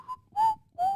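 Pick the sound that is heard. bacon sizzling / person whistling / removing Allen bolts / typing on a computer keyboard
person whistling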